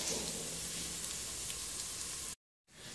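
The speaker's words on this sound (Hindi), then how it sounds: "हमें इस बात का ख्याल रखना है कि लहसुन इसमें अच्छे से भुने" Garlic frying in a pan on a low flame for chicken handi, a steady soft sizzle and crackle running alone, then cutting briefly to silence before resuming.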